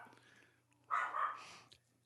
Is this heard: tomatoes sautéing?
no